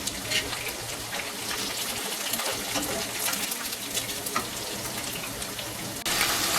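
Fish pieces fry in hot oil for a fish pickle, giving a steady, dense sizzle and crackle with scattered pops that runs throughout at close range, with no talking.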